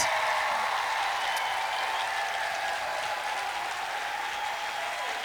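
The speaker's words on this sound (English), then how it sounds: "a round of applause for every poet who graced this stage tonight" A crowd applauds young poets at a youth poetry slam, a dense, even wash of clapping that holds steady from start to finish at moderate level.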